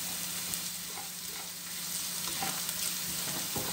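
Turkey kaldereta with bay leaves sizzles steadily in a pot while being stirred, a close, even hiss broken by occasional soft scraping clicks.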